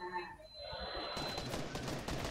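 Rapid SMG fire in a Fortnite match, a dense burst of shots starting about a second in and running continuously to the end, loud and close over game noise, with voices partly under it.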